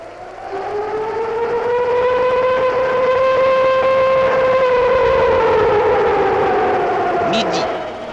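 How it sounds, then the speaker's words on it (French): A loud, sustained factory siren in the main hall of a 1938 Citroën car factory rises and holds a steady pitch for several seconds, then slowly falls away, with a low background rumble underneath. "Dans le grand hall où la sirène vient de retentir"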